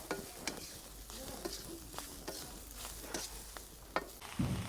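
A leafy vegetable sautéed with salt in a pan, soft sizzling with a scrape of a spatula stirring every second or so, quiet and close with no talking.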